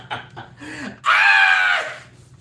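A single person lets out a loud, high-pitched scream lasting under a second, preceded by brief vocal noises and followed by quieter sounds.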